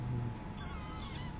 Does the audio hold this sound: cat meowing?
yes